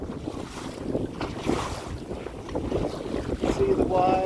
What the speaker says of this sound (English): To see the wild, to hear the waves.